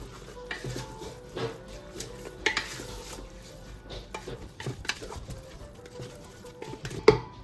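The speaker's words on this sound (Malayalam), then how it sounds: "നമുക്ക് ഒന്ന് ഇളക്കി യോജിപ്പിക്കാം" Spoon stirring rice and chicken biryani with lemon juice in a metal pressure cooker, irregular scraping and clinking against the pot with soft patters, close and fairly quiet.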